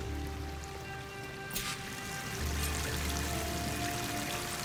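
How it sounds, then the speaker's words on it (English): Steady rushing water from a waterfall in the video game Horizon Forbidden West, a broad continuous wash with a brief louder splash, heard alone at moderate level. "waterfall must be coming from somewhere"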